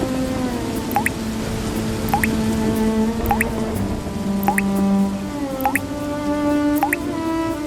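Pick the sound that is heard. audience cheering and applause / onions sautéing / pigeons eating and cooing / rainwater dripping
rainwater dripping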